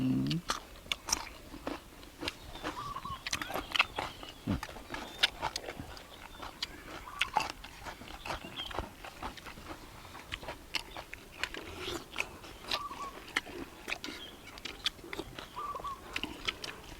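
Close, wet chewing and biting of spicy Thai stir-fried eel with hard head bones, a steady run of crunchy, sticky bites from one eater with no talking.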